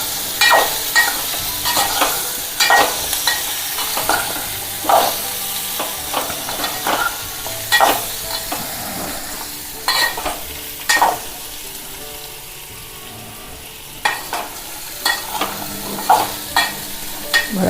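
Potatoes fry in oil with turmeric for a Gujarati potato curry, a soft continuous sizzle broken by repeated scraping stirs of a spoon against the pan at an irregular rhythm, with no talking.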